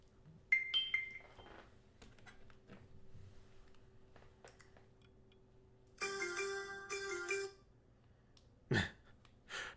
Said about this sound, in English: ESPN notifications, phone notifications.